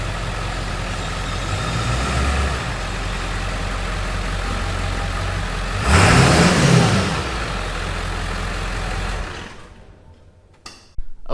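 Ford F250 with a 7.3 diesel and cut exhaust rumbling and clattering close by as the truck pulls in, rising briefly in a revving surge before cutting off into quiet.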